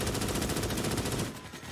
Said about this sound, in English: this teammate just keeps shooting me.